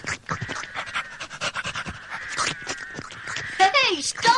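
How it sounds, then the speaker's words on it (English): A dog pants in quick, close, wet breaths while licking, the panting and slurping mixed in with a voice talking over it. "The dog bowled Tenderheart off his feet and began licking him all over."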